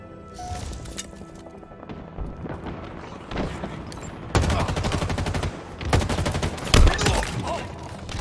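Gunfire in a Halo Infinite multiplayer match comes as sporadic shots that build into dense automatic bursts, loud and close, with booming impacts mixed in.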